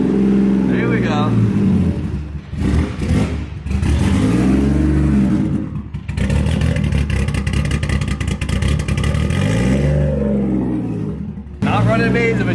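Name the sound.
car engine running and revving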